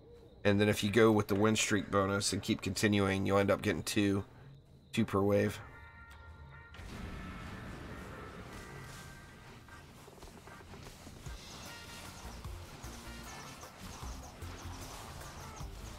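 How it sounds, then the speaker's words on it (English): Hooting, squawking calls from a bird just outside a window, sounding behind a man's speech, then growing faint and scattered once he stops talking. "Damn birds, man."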